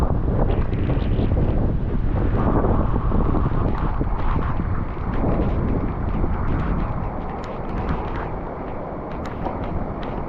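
Loud, roaring typhoon wind in Yamato, Japan, with gusts near 130 km/h, buffets the microphone continuously, surging and easing slightly, with no voices.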